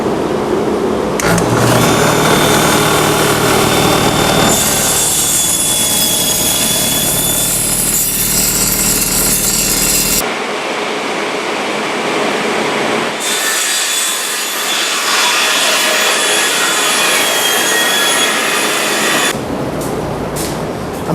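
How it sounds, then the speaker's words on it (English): A loud power saw whines and grinds through a stack of wooden boards gang-sawn together in long sustained cuts, with brief pauses between passes, close and continuous. "I'm going to try gang sawing these things"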